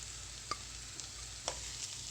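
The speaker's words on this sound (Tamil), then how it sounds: "இந்த ஸ்டேஜில் வந்து நம்ம கட் பண்ணி வச்சுருக்கிற பூண்டு இஞ்சி 2ஐயும் சேர்த்துக்கலாம்." Ginger and garlic frying with softened onions in a pan, a quiet, steady sizzle under a couple of light utensil taps, brief and close.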